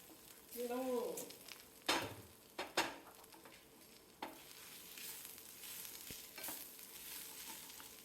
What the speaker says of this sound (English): That means your ginger garlic paste is cooked and your onions are sweated enough.